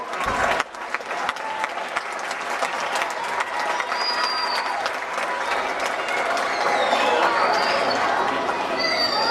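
A crowd applauds loudly and steadily after a brief opening pause, the dense clapping continuing without a break to the end.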